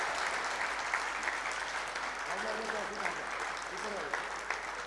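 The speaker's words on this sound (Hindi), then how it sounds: "अब और तालियां बजाएं।" Audience clapping at a tribute event in a Karachi arts council hall, steady dense applause filling the space with many hands, continuing evenly throughout, a few voices faintly audible beneath.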